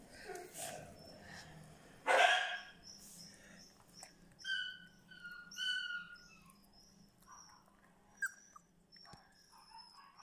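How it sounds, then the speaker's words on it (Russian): Two small puppies found abandoned under a fence whimper and yelp in short, high bursts, with one louder cry near the start and scattered softer whines after it over quiet outdoor background noise. "Еще двух щенков нашли под забором."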